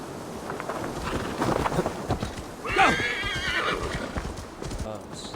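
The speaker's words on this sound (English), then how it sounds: "let me call my horse" A horse called by the player in Assassin's Creed Valhalla gives a loud whinny midway, with rapid clip-clop hooves around it, wind blowing and someone talking over the game.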